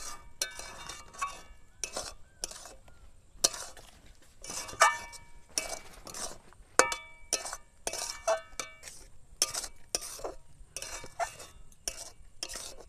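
A spoon stirs grated coconut through bubbling sugar syrup in a pan while making narkel naru in a village kitchen, giving repeated scraping strokes and bright metallic clinks in an irregular rhythm, close and moderately loud, with no talk.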